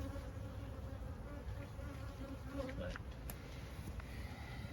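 Honeybees buzz steadily around urban beehives on a Paris rooftop apiary, a dense continuous hum close to the microphone with faint background noise throughout.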